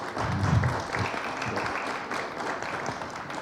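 A seminar audience at a book presentation applauds: a diffuse, continuous patter of many hands, moderately loud at first and then settling to a steady, softer level.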